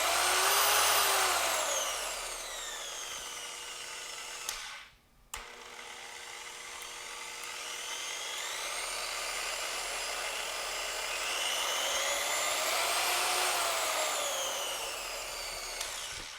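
A Griot's Garage 6-inch variable-speed polisher runs with a steady whirring whine whose pitch rises and falls as the speed shifts. It cuts out briefly partway through and then spins back up, running smooth and fairly quiet.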